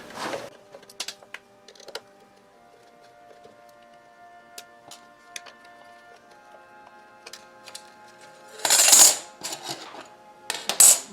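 Screws are taken out of a heat sealer, a run of small metallic ticks and clicks from close by, with two louder bursts of handling noise near the end.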